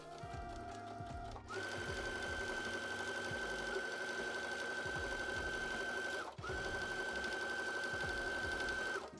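A sewing machine runs steadily as it stitches a seam joining two back short pieces of a summer skort, with a brief pause partway through before it resumes, clear and close with no talking.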